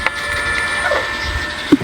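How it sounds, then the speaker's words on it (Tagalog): The blower motor of a Susan 835 unit runs during a repair test, giving a steady close mechanical hum with faint whine tones and a sharp click near the end. "Yan, mandar na yung blower."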